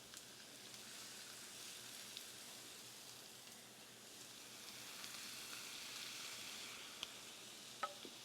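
A seasoned steak sears in a pan on medium heat, giving a faint, steady hiss and crackle throughout with a couple of small pops near the end.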